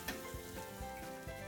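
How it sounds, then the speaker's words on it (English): Chopped onions and bacon sizzle steadily in a frying pan while being caramelized for a Christmas dish, a close, continuous crackle with soft stirring bumps and no talk. "Chopped onions are added to the bacon and caramelized."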